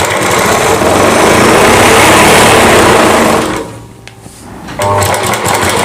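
A sewing machine stitches the panels of a satin Rajputi suit, a loud steady whirring run that halts briefly near the end before the motor starts up again.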